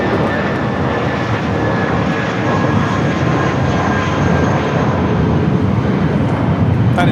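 A Spirit Airlines A320 jet takes off at LAX with a loud, continuous roar of engine noise that fills the whole stretch without easing, heard from fairly close by.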